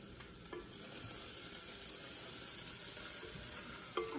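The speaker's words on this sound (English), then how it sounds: "you can see some of these onions now are starting to get a little bit brown" Onions fry and brown in a pan for brown gravy enchiladas, a constant soft sizzle with occasional stirring clicks, fairly quiet and close, with no voices.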